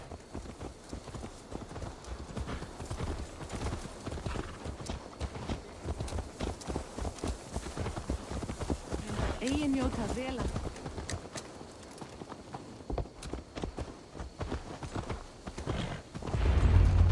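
Horse hooves clip-clop steadily through a stretch of Assassin's Creed Valhalla gameplay, a continuous rhythmic trotting close by with game ambience and brief voices in the background.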